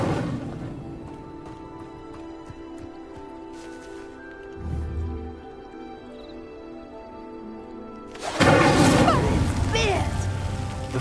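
In Hogwarts Legacy on PS5, an Incendio fire spell ignites a pyre with a sudden loud whooshing burst of flame after quieter ambient game sounds, then a sustained crackling roar.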